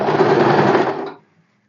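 A domestic sewing machine runs a steady, close burst of rapid stitching along a sleeve seam for about a second, then stops abruptly, leaving near silence.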